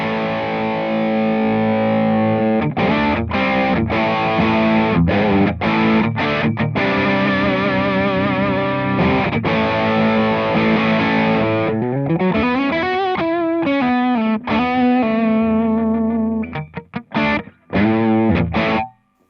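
Keeley 4-in-1 distortion pedal on its OCD setting with controls flat, played through a clean amp: electric guitar riffs with crunchy overdrive, chugging chords and sustained bent notes, loud and close, ending in choppy staccato hits.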